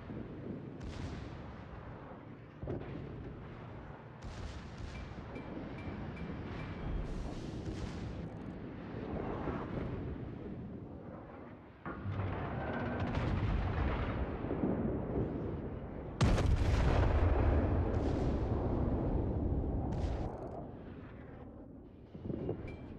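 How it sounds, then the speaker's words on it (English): Warship gunfire in a space battle video game: heavy booming shots and explosions follow one another in irregular bursts, with a loud blast near the end, under a rumbling battle din. "Concentrate fire on the enemy warship."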